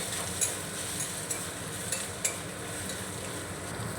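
Spices with asafoetida stirred and fried in hot oil for a vegetarian soya kachori filling: a steady low sizzle with a few light clinks of a spoon against the pan, close and unaccompanied by talk.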